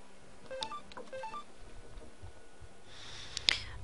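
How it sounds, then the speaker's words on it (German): A telephone sounds two short electronic tone bursts close together, then a faint hiss and a soft click follow over a quiet room background. "Telefon! Ich hör's grad."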